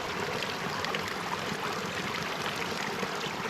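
Water squeezed back through a small hiking water filter to back flush it, a steady close trickling and spraying rush that runs continuously without pause.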